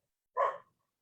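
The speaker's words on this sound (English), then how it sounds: "while we're listening to your dog" A single short dog bark, clear and close, in an otherwise quiet room.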